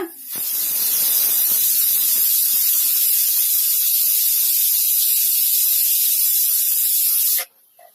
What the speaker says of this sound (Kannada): ಕುಕ್ಕರ್ ಮುಚ್ಚಳ ಮುಚ್ಚಿಟ್ಟು ನಾಲ್ಕು ವಿಜಲ್ ಬರೋವರೆಗೂ ವೇಟ್ ಮಾಡೋಣ